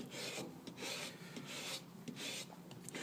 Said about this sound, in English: to grate down a little part of it, or to rasp down some of it